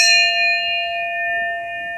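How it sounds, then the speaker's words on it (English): A single bell stroke tolls like a knell, a bright clang that settles into a clear, sustained ringing tone and slowly fades. "The bell invites me."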